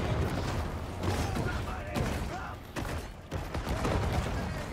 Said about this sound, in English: they are throwing bombs